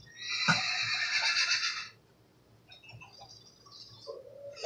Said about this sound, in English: Yeah, this is my horse.